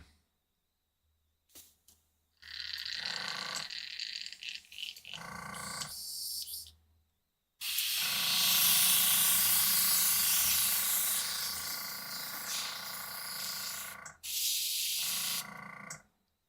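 Airbrush spraying water across a desk, a steady broadband hiss in several bursts, the longest running about six seconds, close and fairly loud with short pauses between sprays.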